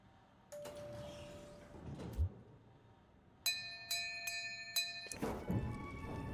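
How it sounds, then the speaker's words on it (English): Bells ring in a video game: five bright, evenly spaced chimes in a row with ringing overtones, preceded by a softer tone and a dull thud, then a louder clattering burst at the end. "The bells."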